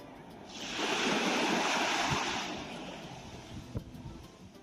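Waves wash onto a beach in Barcelona near the Playa de San Sebastián, one broad surge of surf swelling and receding, fairly close with light wind noise and a faint knock near the end.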